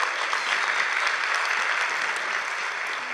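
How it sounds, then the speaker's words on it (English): Steady, dense audience applause for event sponsors at an opening plenary session in a hall, a continuous wash of many hands clapping at full volume with no speech over it. "Let's give all of our sponsors a round of applause."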